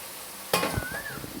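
Taro chunks and pre-fried potatoes are tossed in hot oil in a pan, quiet at first, then a sudden clatter of the spatula followed by continuous sizzling and stirring scrapes, no talking.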